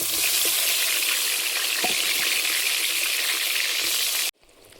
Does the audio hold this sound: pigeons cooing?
no